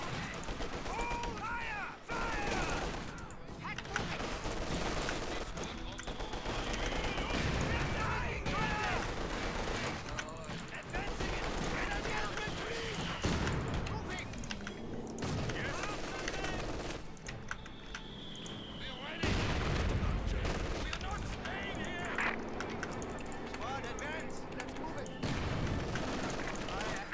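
Dense battlefield gunfire and booming explosions from Company of Heroes 2, steady and loud throughout with bursts of machine-gun fire, while shouted voices call out over the din.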